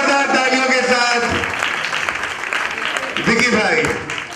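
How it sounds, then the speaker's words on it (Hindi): An audience claps loudly and steadily for several seconds, filling the space with dense applause over a spoken voice at a stage event. "जोरदार तालियों के साथ"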